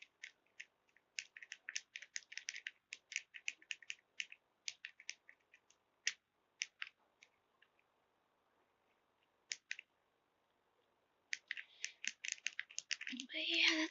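Rapid plastic clicking from the spinning dial of a fidget cube, dense bursts of sharp ticks that pause briefly mid-way and then resume in a fast, close, loud run.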